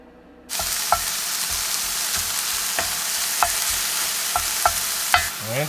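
Ground beef sizzles loudly and steadily in a pan at a camp cooking spot, with a few sharp metallic stirring clicks and scrapes scattered through the hiss after it suddenly begins.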